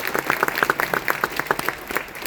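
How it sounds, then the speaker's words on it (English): An audience at a district honor band concert claps steadily for the young musicians, a dense, even patter of many hands filling the hall for a couple of seconds without cheering. "So big round of applause for them."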